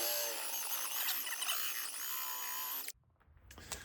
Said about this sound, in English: now I'm drilling it. I start out with a small 1/8 bit, and then I'll use a step drill